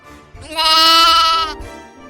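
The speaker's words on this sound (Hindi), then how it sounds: "राजू फिर अपनी भेड़ों को चराने ले गया।" Sheep bleating in an animated Hindi children's story about a boy grazing his flock: one long, loud, wavering bleat lasting about a second, close and alone, with no voices.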